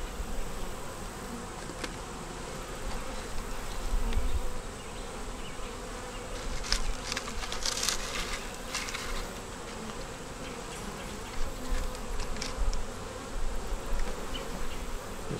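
Honey bees buzz steadily around a hive during a beekeeping inspection of queen cells, a dense, close drone with occasional louder passes near the listener.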